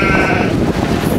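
Sheep or goats on Jedediah Island bleat loudly and close by in a rough, wavering call lasting about a second, with faint outdoor background.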